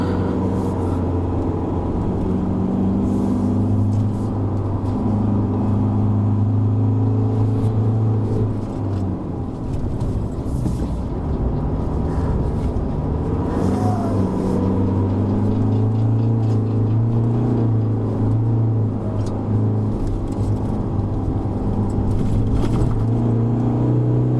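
A 2021 Isuzu D-Max X-Terrain pickup pulls in third gear on a Genting hill road, its engine a steady, loud droning hum with shifting pitch and a continuous road rumble throughout.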